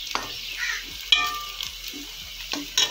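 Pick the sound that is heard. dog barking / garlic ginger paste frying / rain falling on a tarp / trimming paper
garlic ginger paste frying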